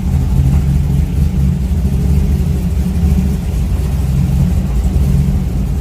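Pontiac Trans Am street racing car accelerating at a Texas street race, a loud sustained engine roar heard close up, steady and throaty throughout with no talk over it.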